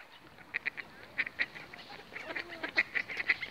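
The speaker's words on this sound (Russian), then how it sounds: "какая большая идет к тебе утка вон" A duck approaching at a park pond in Krasnogorsk gives repeated faint honking quacks in a quick irregular series over a soft outdoor background.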